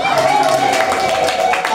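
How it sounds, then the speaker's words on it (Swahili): A church gathering breaks into applause and ululation, with a continuous close crowd sound of clapping and high trilling voices at a strong, steady level. "Makofi na vigelegele"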